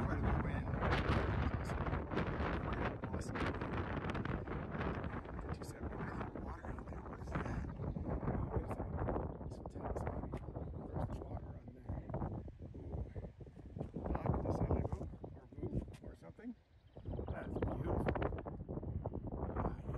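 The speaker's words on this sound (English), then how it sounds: "It's quite a bit of wind." Strong wind buffets the microphone on an open hiking trail, a continuous loud roar with gusting surges and brief lulls, no other sounds standing out.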